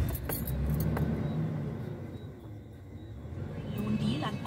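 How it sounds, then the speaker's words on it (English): A car engine is started and idles with a low rumble, accompanied by clicks and jangling near the ignition, with a brief hush in the middle before the engine noise rises again. "Start the car."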